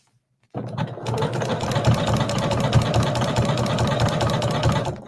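A sewing machine runs steadily, stitching appliqué onto a small hand towel, its motor whirring with a dense rapid needle rhythm close by after a brief silent start.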